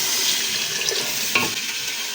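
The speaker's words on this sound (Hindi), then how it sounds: "अभी हम लोग इसमें डालेंगे तकरीबन आधा लीटर के करीब पानी डालेंगे" Water pours steadily into a hot pot of aloo gosht, hissing and sizzling as it hits the meat and potatoes, a continuous rushing splash at close range.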